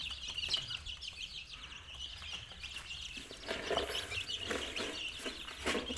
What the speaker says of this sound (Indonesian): bagaimana kondisi ayam saya makan pada malam hari